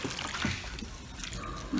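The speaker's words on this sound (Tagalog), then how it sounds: "lagay na siya ng tubig" A soft trickle of water poured into pig grower feed, steady and close, with light splashing and no talking.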